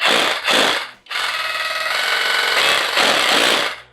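An ASSUR cordless rotary hammer drill runs in loud, continuous bursts close up, with a brief break near the start and a pause around one second before it roars steadily again until the end.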